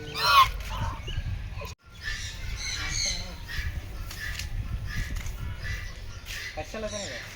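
A duck gives repeated honking quacks close by at an eco park in Chikkaballapur, while people talk over the calls.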